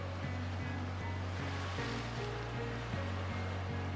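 Sea waves wash against the shore in a constant broad roar, with a faint periodic tonal hum running beneath the surf.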